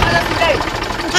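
A tractor engine idles in a farm field with a low rumbling chug, close by and steady, while people talk over it.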